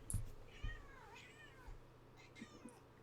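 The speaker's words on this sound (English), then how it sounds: "Whiny cat? What's up?" A cat meows in several whiny, drawn-out cries, close and fairly quiet, over a soft background with a few low bumps.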